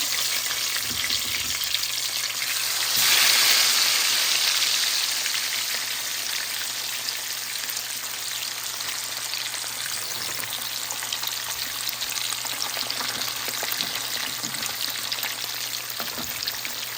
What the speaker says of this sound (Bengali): তো মাছটা আমি একটু উল্টাই দিই, আস্তে আস্তে ভেজে নিচ্ছি